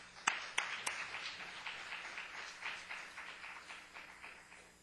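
A church audience at a Saturday praise service claps to welcome a speaker: a few sharp, close claps at the start, then a faint, steady spatter of applause that fades gently.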